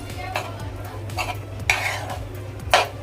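Cauliflower egg bhurji stirred in a pan: a few short scraping and clinking strokes of a spoon against the metal, close and fairly soft over a low steady hum.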